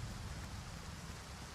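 Steady, soft rain in the video game Stalker 2 patters continuously as a dense hiss with no distinct drops standing out and no voices.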